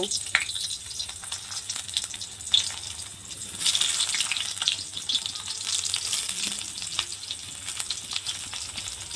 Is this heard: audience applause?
no